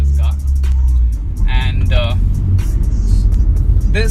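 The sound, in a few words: modified Honda City engine with Raj headers and exhaust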